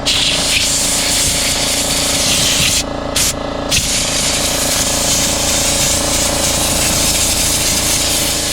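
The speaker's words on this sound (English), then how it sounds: "Blew out the excess rubbing alcohol" An air compressor blows excess rubbing alcohol out of cleaned RV window tracks, giving a loud, steady hissing blast that runs almost the entire time with two brief gaps in the middle.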